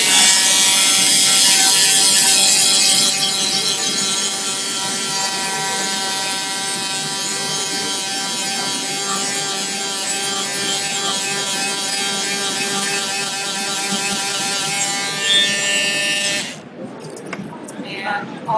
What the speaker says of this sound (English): here we have the sander. So we're going to scratch it up a little bit.